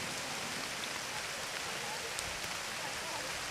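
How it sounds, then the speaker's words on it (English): A rain downpour falls steadily on an outdoor fairground, a continuous even hiss of drops on surfaces with a few sharper patters, moderately quiet and without other sounds standing out. "we have a little downpour with rain that's finally gotten here from the remnants of Hurricane Isaac."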